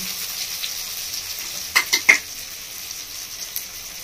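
Cinnamon, chili and black pepper fry in hot oil with a soft, steady sizzle, broken by a few sharp crackling pops close by near the middle.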